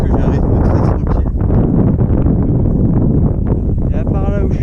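Heavy, steady wind buffets the microphone outdoors during a long solo trail run through the Suisse Normande countryside, a loud low rumble that persists throughout while a person talks over it.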